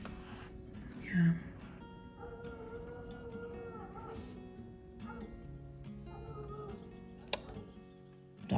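Hunting dogs out after wild boar on a Sunday howl at a distance, one brief louder cry rising above a low, steady background murmur.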